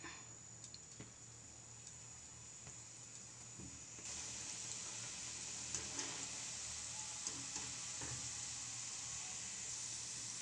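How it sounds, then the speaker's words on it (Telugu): Gulab jamun balls made from cow's milk drop into hot oil and deep fry with a steady broadband sizzle that grows louder midway, with occasional soft stirs and bubbling pops, no talk. "ఇప్పుడు ఆయిల్లో డీప్ ఫ్రై చేసుకోవాలి. ఇప్పుడు గులాబ్ జామ్ ఉండలు వేసుకోవాలి ఆయిల్లోకి."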